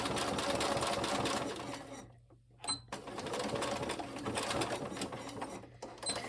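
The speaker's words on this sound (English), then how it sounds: "So I'm going to back stitch at the start and at the end again." A sewing machine back stitching along a strap runs with a close, steady mechanical whir, halting briefly in the middle before resuming its rapid stitching rhythm.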